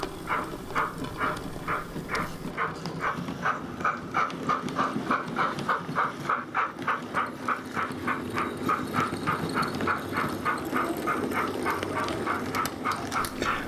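A DJH kit Class 5 model steam locomotive chuffs in a steady, even rhythm as it hauls a BR Mark 1 coach along, with a soft rolling rumble underneath.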